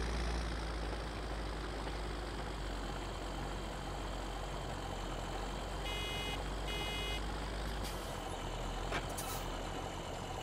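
Truck reversing beeps in the Farming Simulator 2017 video game, a few evenly spaced electronic beeps over a steady low engine rumble and idling drone, fairly faint in the mix.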